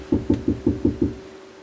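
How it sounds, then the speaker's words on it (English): Six quick, evenly spaced knocks rap on a car's driver's side window, close and firm, followed by a brief quiet tail. "one of them got out of the car and came up and started knocking on my driver's side window"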